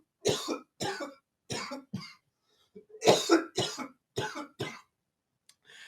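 A series of harsh, repeated coughs in short bursts, close and fairly loud, with brief pauses between them and a couple of fainter hacks near the end.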